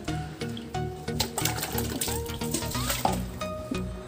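Water is poured during the cleaning and renovation of a home aquarium. It splashes and gurgles continuously and fairly close, with steady rushing and trickling throughout.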